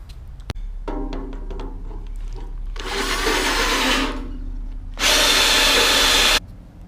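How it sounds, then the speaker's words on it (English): A power drill revs in short bursts, then grinds steadily through material in two loud sustained stretches separated by a brief pause, drilling holes in a fuel tank for a Haines Signature 530F boat restoration. "I just drilled it with the drill bit and then sort of opened it up a bit with a burring tool"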